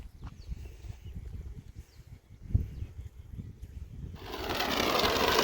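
A corn seeding machine works a field cleared of banana plants and set up with drip lines. Low, steady mechanical rattling and chatter build into a louder, continuous rushing hiss near the end, with no voices.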